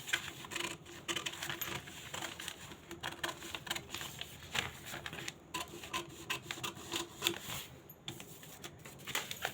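Scissors snip through a paper pattern for a four-tuck blouse in a series of quiet, close, irregular cuts and rustles, with no talking.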